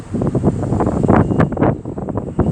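Buffeting wind gusts from a passing ScotRail Class 385 electric multiple unit at Edinburgh Waverley station, a loud rough rumble of turbulent air battering the microphone in uneven surges, with no voices.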